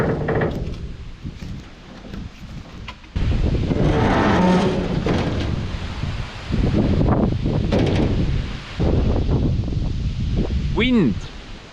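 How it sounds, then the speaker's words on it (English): Strong gusty wind roars outdoors across a yard where an old broken Soviet K-700 tractor sits, loud buffeting rumble swelling in waves with brief lulls, a voice mixed in. "Wind!"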